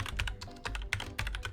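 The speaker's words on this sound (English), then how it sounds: "Oh, you're typing" Rapid keystrokes clatter on a computer keyboard in quick, uneven bursts, close and fairly quiet, with no voices.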